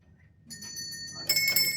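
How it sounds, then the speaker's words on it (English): A small Whitechapel foundry bell at House Mill is tapped lightly, giving a thin bright ring that sustains, then a second stronger strike rings out clearly nearby. "So see the little bell on top,"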